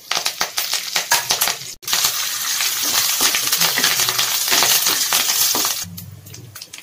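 Curry leaves and dried red chillies splutter and crackle in hot oil, a dense run of sharp pops and sizzling that fades near the end under a low rumble.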